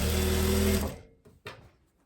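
Sewing machine with a standard presser foot running a seam on a tailored blazer, a fast steady whir for under a second that stops abruptly, followed by two short mechanical clicks.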